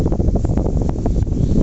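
Homemade 12V battery-powered DC fan running nearby, its airflow hitting the microphone as a steady, loud blustery rumble with a soft whooshing hum.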